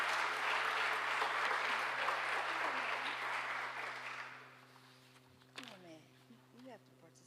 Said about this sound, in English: Please give them a round of applause as they make their way to the front